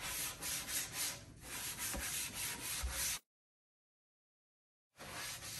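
Oil is rubbed over a resin kitchen sink with a steady, close scrubbing friction for about three seconds, then silence, then the rubbing resumes briefly.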